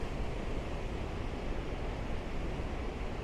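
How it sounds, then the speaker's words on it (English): Seljalandsfoss waterfall in Iceland roars as a steady, unbroken broadband rush, even and continuous like heavy surf or wind, with no pauses or other sounds standing out. "And this is the main waterfall"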